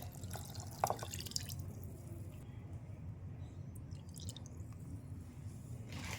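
Water pours steadily into a pan of jaggery for several seconds, a soft continuous splashing and trickling heard close up, with no talking.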